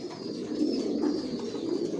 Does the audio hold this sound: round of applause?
no